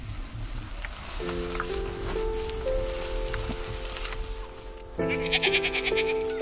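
Goats bleat repeatedly, with long, sustained, wavering calls that overlap one another. Several animals grow louder toward the end over a constant hissing background, and no one speaks.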